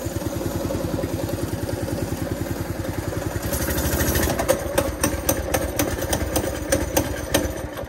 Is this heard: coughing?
no